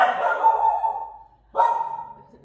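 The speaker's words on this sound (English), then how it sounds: "sorry, the dog's barking." A dog barks twice indoors, fairly close, each bark a loud, sharp burst with a short pause between.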